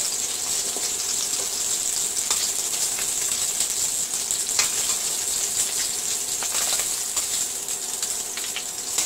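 Tangra fish fries in hot oil with a steady, close sizzle and scattered crackling pops that carry on without pause and with no voices.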